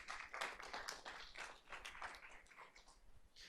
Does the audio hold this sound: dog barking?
no